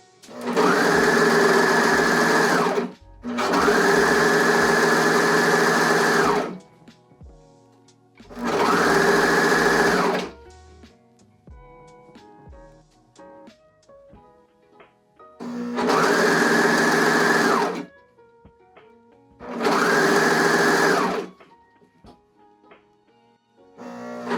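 A serger stitches swimsuit leg holes in five loud, steady bursts of rapid whirring, each lasting a few seconds, with quiet pauses and light handling noises between runs.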